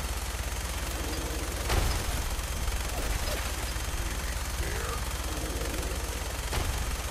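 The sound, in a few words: grenade explosions in the video game Fallout 4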